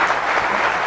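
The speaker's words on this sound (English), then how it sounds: "A big round of applause to these people on stage." A large audience claps steadily for people on stage at the end of an on-stage dialogue event, a dense, sustained wash of applause filling the whole moment without any voices.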